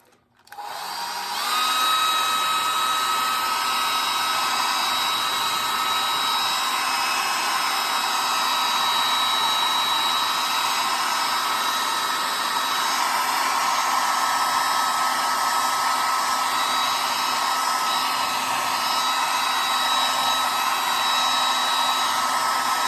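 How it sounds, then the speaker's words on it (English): A hair dryer clicks on and then blows steadily with a loud, even whining roar for about twenty seconds while drying a wet painting of an otter. "I'm going to hit this with the hairdryer."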